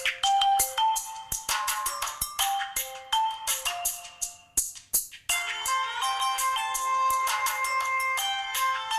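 A Blackview A8 budget smartphone plays a melodic ringtone through its external speaker at high volume, with bright, repeated chiming notes continuing for the whole stretch.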